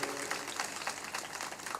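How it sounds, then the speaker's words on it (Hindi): An audience at a spiritual discourse in Chindipur, Uttar Pradesh, claps together in a dense, moderately loud patter of overlapping hand claps that stays fairly even throughout. "ताली बजा दो।"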